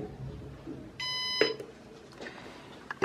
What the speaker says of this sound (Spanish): Presionamos hasta que se escuche el bip